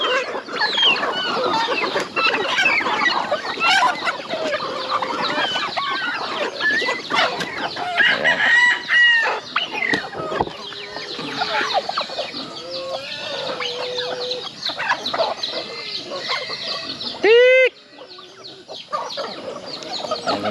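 Farm chickens cluck busily at feeding time while a rooster crows, the flock loud and close and filling the whole stretch with overlapping calls.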